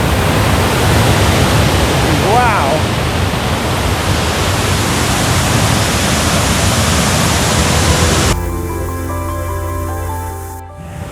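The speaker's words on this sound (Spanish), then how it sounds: "El Salto La Llovizna es una cascada situada en el río Caroní" Salto La Llovizna, a waterfall on the Caroní river in Ciudad Guayana, roars as a loud, constant broadband rush, with a brief exclamation from a person before the sound cuts into a quieter ending.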